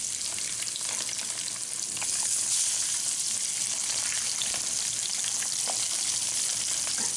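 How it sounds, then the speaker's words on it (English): Fish fillets searing in a hot pan with curry seasoning, a steady close, even sizzle running throughout with faint crackles and no break, no talking over it. "I just want to slightly brown and sear the fish"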